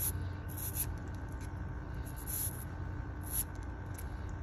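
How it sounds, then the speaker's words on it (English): A wire brush scrapes back and forth through a small screen in a few quick bright strokes over a low steady pump hum, faint and close, with no voices. "Then take your wire brush and pull it through a few times."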